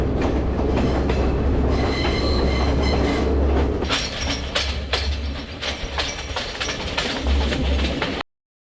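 A passenger train rolls along the scenic Sri Lanka hill-country rail route near Kandy, with a steady loud rumble of wheels and carriages, rhythmic clacking and occasional squeals throughout, heard close from inside or beside the train.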